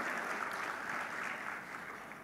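Audience applause for students recognised for memorising all 30 juz of the Qur'an at a school institutional report event, a steady wash of clapping from a crowd, fairly faint and continuous with no talk over it.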